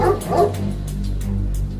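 A nervous, very thin dog gives short yips and whimpering barks at close range, a quick cluster of strained cries over a low background rumble.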